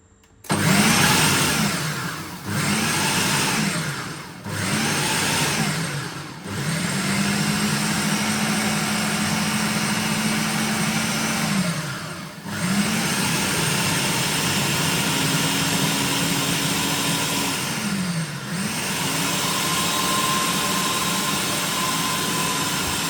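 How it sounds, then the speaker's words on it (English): A countertop blender whirs through peanut butter protein ball ingredients in several loud pulses, each burst of steady motor hum stopping and restarting, with no talking over it. "I just need to put the lid of the blender on and give it a stir"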